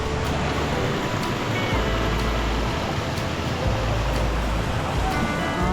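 Water pours down at a waterfall in Palakkad, a loud, steady broadband rush that fills the whole span without pause.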